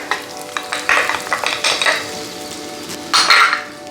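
Rice being stirred in a pan with asafoetida, turmeric and black pepper, giving close, irregular scraping strokes over a steady sizzle, with no voices.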